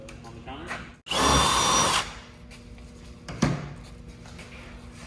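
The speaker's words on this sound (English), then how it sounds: "I'll make my first drill." Power drill boring a hole for a splitter install on a Dodge Charger Hellcat, one loud close whirring burst of about a second, then quieter handling knocks and a brief thump.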